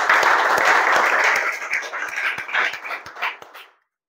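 Students in a classroom clapping loudly together, a dense burst of fast claps that thins into scattered individual claps and stops after a few seconds.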